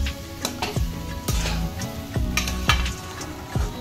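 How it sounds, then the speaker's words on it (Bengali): Rice and lentils being stirred and fried with ginger paste in a pot for bhuna khichuri, with regular scraping ticks and clinks of a spoon against the metal over a soft sizzle, close and steady. "আদা বাটাটাও আমি চাল এবং ডালের সঙ্গে ভালো করে মিশিয়ে একটু ভেজে নেব।"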